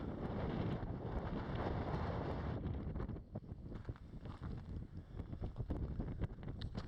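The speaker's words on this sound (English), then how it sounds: "It's quite windy, so you might get some wind noise." Loud, blustery wind buffets the microphone with rumbling gusts in a desert canyon near abandoned mines, easing slightly partway through but continuing throughout.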